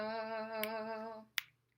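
A single sharp finger snap near the end, after a long sustained sung note fades out.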